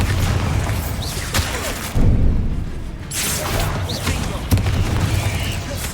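Bombarda exploding spell in Hogwarts Legacy, loud booming blasts and bursts repeating over dense whooshing game noise, with a voice calling out spell names.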